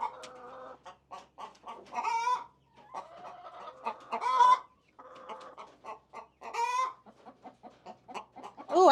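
An Ancona hen clucks close by in a run of short, rhythmic calls, with a few louder, drawn-out squawks from nearby chickens breaking in between the clucking.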